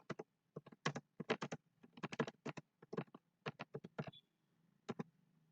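Keys clatter on a computer keyboard as VBA code is typed in Excel, close and fairly crisp, in quick irregular bursts of strokes with short pauses between, and no voices.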